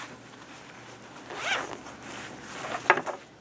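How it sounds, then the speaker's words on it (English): Two short zipper pulls on a denim purse made from recycled jeans, one about midway and a sharper one near the end, close and clear against a quiet room. "And then zip closure"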